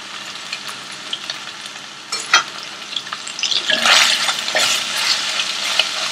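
Chopped tomatoes are stirred into sautéed onions and hot oil in a pan, making a close, crackling sizzle with scraping stir strokes that grows busier and louder midway, with no voices.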